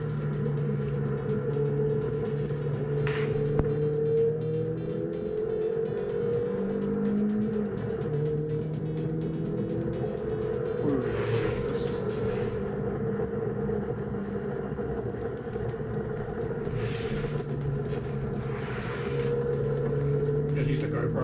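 Mazda MX-5 lapping the wet Ruapuna race track, a steady in-car engine drone with shifting tones and occasional bursts of spray or tire hiss, loud and continuous throughout.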